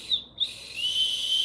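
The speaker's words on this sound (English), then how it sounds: "That's a built-in whistle there." Small plastic whistle built into a backpack sternum-strap clip, blown on a trail: two short high peeps, then a longer sustained shrill tone, close and fairly quiet over faint outdoor hiss.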